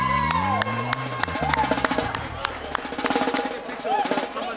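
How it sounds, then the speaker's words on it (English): A crowd at the 2023 Black Excellence cocktail mixer claps and cheers for the winner, with loud whoops and shouting voices over a dense burst of applause throughout. "Ladies and gents, let's give our winner, Francina, a big round of applause."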